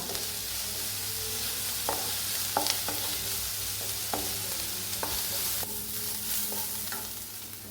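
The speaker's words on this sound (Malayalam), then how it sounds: "ഉള്ളി ജസ്റ്റ് ഓവറായിട്ട് മൂക്കണ്ട, ജസ്റ്റ് ഒന്ന് ഇതായാൽ മതി" Chopped onions for a Kerala quinoa brown rice uppumavu sauté in oil in a pan, a steady close sizzle broken by regular scraping stirs of a spoon, with no talking.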